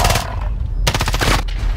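Sniper rifle fire in Call of Duty Warzone: sharp, loud gunshot bursts up close, one at the start and a denser rattling burst in the middle, with a short gap between them.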